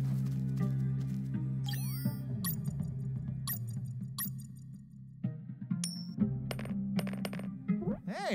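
Coins drop onto the ground in the video game UnMetal, a series of bright metallic clinks and rings at irregular intervals over a low humming game background, with no talking.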